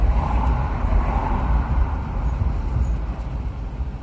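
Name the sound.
articulated lorry driving behind car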